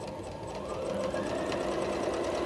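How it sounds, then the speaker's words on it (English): A domestic sewing machine runs a straight stitch with an eighth-inch seam along binding on a smocked bishop garment, giving a steady, close, continuous whirring hum with no talking. "I'm just going to run mine right through here. This is a straight stitch"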